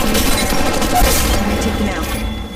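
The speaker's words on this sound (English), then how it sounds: "Throwing thermite grenade." Dense, continuous gunfire and explosive booms from a mobile shooter video game as a thermite grenade is thrown, a loud, steady barrage with no pauses throughout.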